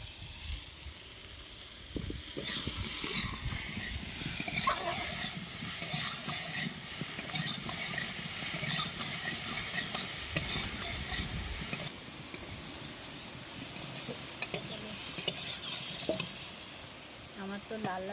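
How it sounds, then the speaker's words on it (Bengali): Chunks of raw jackfruit, seasoned with a little salt and turmeric, fry in a pan with a continuous bright sizzle and hiss, joined by a few sharper utensil knocks and scrapes later on. "আমার তো লাল লাল করে ভাজা হয়ে গেছে কাঁঠালের এঁচড়"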